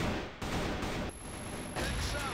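Pistol shots in a Critical Ops esports match, several quick bursts of gunfire at close range in a dense, loud exchange, with background voices from a commentator.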